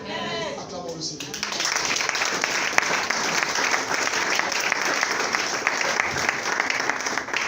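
A church congregation bursts into sustained applause, loud and close, right after a pastor's spoken words, with clapping continuing steadily and some voices mixed in.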